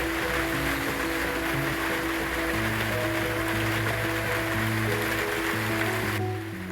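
Steady heavy rain and wind wash over a sailboat at anchor in stormy weather, a dense continuous hiss with a low rumble beneath that drops away abruptly near the end.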